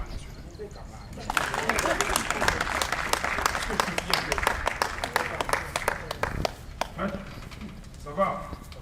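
Guests at a civil wedding break into sustained applause, dense clapping that rises and carries on for several seconds while voices talk over it, then thins out near the end.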